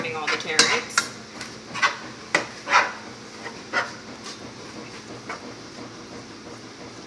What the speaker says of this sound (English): So I'm going to grab my spoon, give this a little stir.